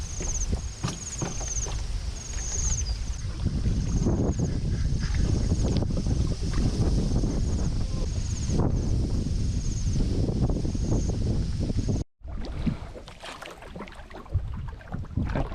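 A ladder raft boat is paddled against a strong wind, with steady wind rush and microphone buffeting over soft, repeated water splashes and knocks from the paddle, which drop out briefly near the end.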